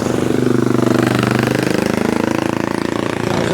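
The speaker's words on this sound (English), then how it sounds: "I do like the sound of a motorbike." A motorbike engine runs close and loud on a Lake District road, giving a fast, evenly pulsing throb that holds steady for a few seconds.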